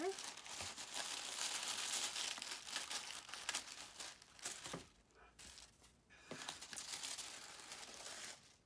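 Packaging of a dress subscription box is opened up close: steady crinkling and rustling of paper and plastic for several seconds, with a few tearing bursts and short pauses.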